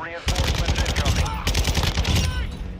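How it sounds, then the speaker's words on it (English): Automatic gunfire in Call of Duty DMZ: loud, rapid bursts of shots come in two long strings with a brief gap between them, close and dense, with faint voices in the background. "We're being shot at"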